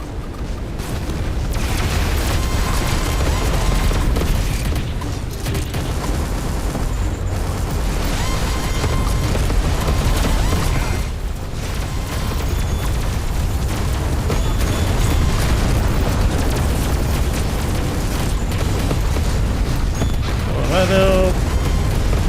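Weapon fire and explosion effects in the space shooter Everspace 2, a sustained roar of booming blasts and rumbling gunfire that stays loud and dense, with someone talking over it.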